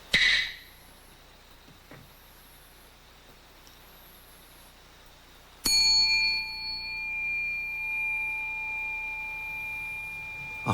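A single bell marks a short break between meditation sessions. After a long hush it gives one clear strike with a bright, sustained ring that slowly fades.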